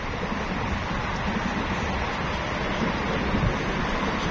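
Far-off road traffic ahead on an evening walk gives a constant, even wash of noise much like surf or rushing water, steady throughout and unbroken by any voices.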